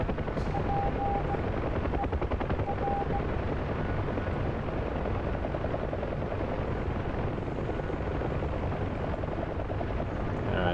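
Steady, dense rotor thump and turbine roar of a UH-1 Huey helicopter in the DCS flight simulator, heard from the cockpit as a constant loud drone with no voices.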